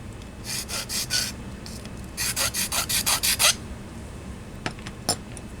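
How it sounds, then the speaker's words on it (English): Grinding on a Y-Knot build: bursts of coarse, rhythmic rasping strokes, first a short group and then a longer run of about eight even passes, followed by a few isolated light scrapes, close and clear with no talk. "I'm just gonna grind."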